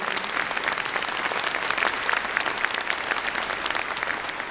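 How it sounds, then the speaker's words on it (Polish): Sustained applause from a concert audience at a charity Christmas and New Year concert in Bytom, dense and steady clapping filling the whole stretch at even loudness, with no talk over it. "Raz jeszcze proszę ogromne brawa."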